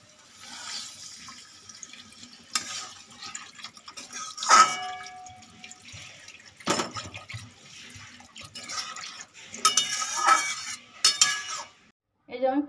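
Water is poured into a pan of fish curry with lentil dumplings, giving splashy liquid bursts and clinks of pots and utensils, with quiet gaps between.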